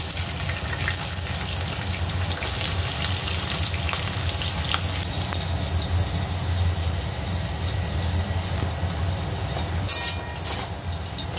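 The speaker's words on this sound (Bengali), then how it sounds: "এর মধ্যে আমি কেটে রাখা আলুগুলো দিয়ে দিলাম" Cut potatoes tossed into a pan of hot oil tempered with whole spices sizzle and hiss steadily at close range, a dense continuous frying roar with a few brief clatters near the end and no talking.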